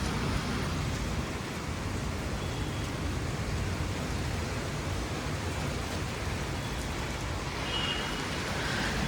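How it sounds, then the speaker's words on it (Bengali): Heavy rain pours down during a storm, wetting the roads, as a steady, dense hiss that continues unbroken throughout. "এখন আজকে দেখছি ফাইনালি একটু মানে জোরে বৃষ্টি হচ্ছে"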